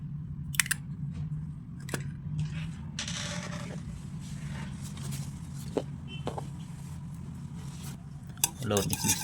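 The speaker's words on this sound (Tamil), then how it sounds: "இந்த மாதிரி நல்லா அடிச்சுக்கோங்க" Wheat cake batter with three eggs is beaten by hand in a bowl, giving soft, continuous scraping and light clinks of utensil against the dish, with a few sharper taps and a clatter at the end.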